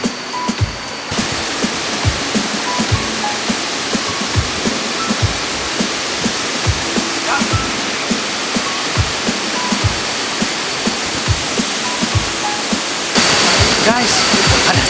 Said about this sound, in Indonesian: Dan istilah curug Air terjun.